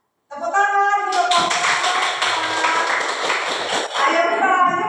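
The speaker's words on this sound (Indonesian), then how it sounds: "Ya, tepuk tangan untuk" A group of people claps in a school teacher-training session, a lively burst of many hands that follows a voice speaking and continues with some talk mixed in.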